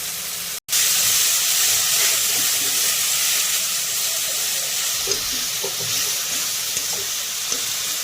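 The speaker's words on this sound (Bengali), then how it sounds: "ভালো করে মশলাটা কষিয়ে নেব।" Spice masala with red chilli powder and sugar is stir-fried in a pan for a vegetarian taro dish, a loud continuous close sizzle with light stirring scrapes under it, after a brief sharp cut at the start.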